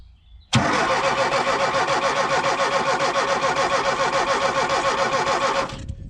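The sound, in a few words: Ford Transit engine cranking via starter motor relay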